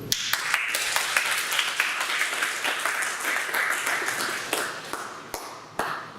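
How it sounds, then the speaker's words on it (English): A forum audience on Staten Island applauds Senator Liu with moderate, steady clapping that continues for several seconds, punctuated by a few sharper individual claps and taps before tapering off. "So, please, a round of applause for Senator Liu."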